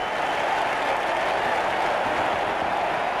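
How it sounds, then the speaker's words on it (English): Dense, steady applause and cheering from a huge New York City crowd greeting astronaut John Glenn, a loud continuous hiss of clapping hands with no breaks. "4 million people turn out to cheer the astronaut who put America back in the space race"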